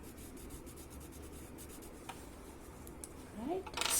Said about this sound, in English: there where there is this overlaps, I'm just adding the graphite there